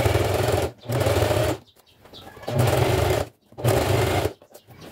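A sewing machine with a size 14 needle stitches slowly on a fabric tote bag, running in four steady bursts separated by short pauses, close and loud with no talking.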